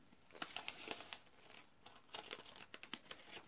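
Scissors cutting through paper or packaging in a series of quick, faint crisp snips and crinkles, close by, with no talk over them.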